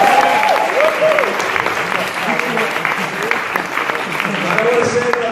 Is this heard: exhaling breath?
no